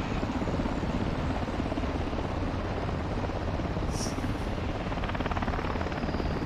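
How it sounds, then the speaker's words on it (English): A helicopter in the Modern Warfare 2 campaign keeps up a loud, constant rotor and engine roar through the whole stretch, with no voices over it. "Nikolai, rock him with the helo"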